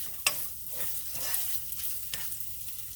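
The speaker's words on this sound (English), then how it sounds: "I'm giving my sausage a good stir so they can cook evenly." Andouille sausage sizzling in a pan, with a soft, steady crackle of frying and a few scraping stirs of a utensil against the pan, quiet and close.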